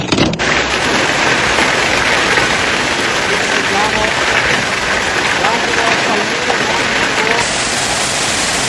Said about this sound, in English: its force was unimaginable: strong winds, rain, and even hail